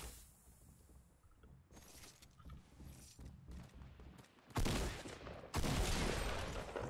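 Fortnite Battle Royale gunfire in a solo match, a few sharp in-game shots with mechanical clicks and rattles, ending in two loud, sustained bursts of noise that stay close and heavy.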